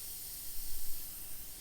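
An airbrush sprays paint through a skull template, giving a soft, steady hiss that swells briefly in the middle and then settles.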